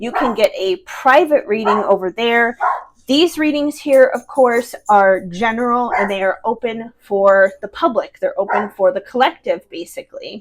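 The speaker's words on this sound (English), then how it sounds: "Sorry, if you hear my dog barking in the background," A small dog barks faintly in the background of a home while someone talks continuously in the foreground, the barks mostly buried under her voice.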